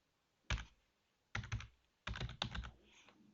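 Close computer keyboard typing in three short bursts of quick key clicks, separated by pauses, as terminal commands are entered; no voices.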